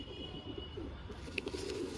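Soft, low cooing from a giribaz pigeon rolls on in short repeated notes, faint, with a small sharp click partway through.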